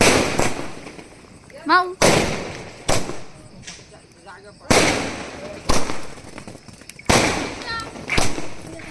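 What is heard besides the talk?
Diwali firecrackers bursting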